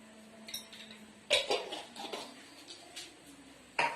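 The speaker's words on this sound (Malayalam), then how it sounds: "ഇതൊന്ന് മിക്സ് ചെയ്ത്" Amrutham powder cutlet mixture being stirred with spices in a bowl, giving a few sharp clinks of utensil against the bowl amid soft scraping, close by, with quiet gaps between the knocks.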